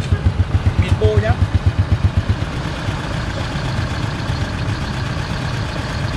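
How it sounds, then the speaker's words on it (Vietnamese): A Vietnamese-built Honda Dream motorcycle engine starts and idles close by, with a steady, fast putt-putt thumping that is loud at first, then settles into an even, continuous idle. "Mình nổ máy lên thử cho anh em nghe con Dream Việt này."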